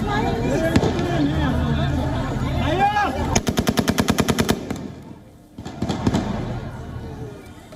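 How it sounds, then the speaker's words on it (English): Rapid bursts of gunfire from US troops shooting into the air at Kabul airport, a fast string of sharp cracks amid a noisy crowd, with loud voices and shouting before and after the volley. "the US troops fired shots into the air at the Kabul airport"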